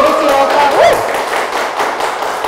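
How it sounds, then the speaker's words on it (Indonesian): A crowd applauds the Siloka team from Telkom University with a steady spread of clapping, and a voice is heard briefly at the start. "Oke, tepuk tangan dong untuk tim dari Siloka."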